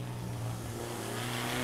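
A car engine hums steadily at a low pitch, running at moderate volume without any voices.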